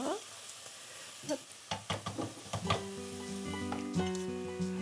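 Squid slides into a pan of sizzling sauce, starting with a few clattering knocks before a steady frying sizzle settles in. Faint voices are heard underneath.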